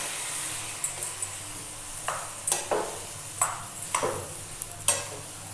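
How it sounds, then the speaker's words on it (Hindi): Chopped tomatoes stir and fry in a pan with bay leaf and red chillies for a sweet-sour tomato chutney: soft steady sizzle broken by about eight sharp spoon scrapes and clinks against the pan, close and clear. "अब मैं इसमें डालूँगी टमाटर कटा हुआ। टमाटर को डाल के अच्छे से चला देना है।"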